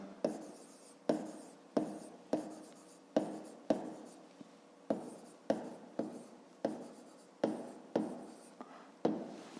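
A pen scratches across paper in quick repeated strokes during a fifth-grade maths exercise, about a dozen close, distinct bursts at a fairly even rhythm with short pauses between them.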